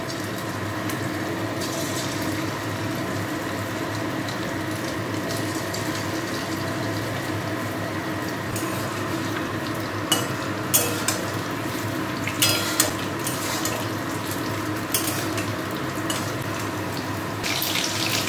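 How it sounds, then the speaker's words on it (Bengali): Chicken pieces deep-frying in white oil in a wok, a steady close sizzle and crackle running throughout with a few sharper pops and clinks toward the end. "তো আমার এখন কড়াইতে এখন চিকেনগুলোকে ক্রিস্পি করে ভাজবো।"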